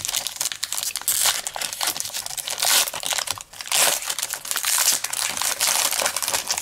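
Panini football trading card packs are torn open up close: dense, continuous crinkling and ripping of foil wrappers, loud and busy with only a brief pause midway.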